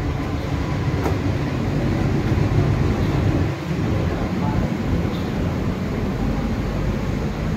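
Inside a moving Mumbai AC suburban local train, a steady low rumble of wheels on track runs throughout, with faint rattles and a brief dip in the noise partway through.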